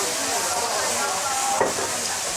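A continuous hissing sizzle of golden oysters pan-frying, with a brief clink partway through.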